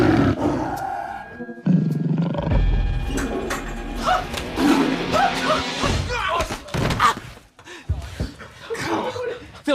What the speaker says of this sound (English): Phil, there is a tiger in the bathroom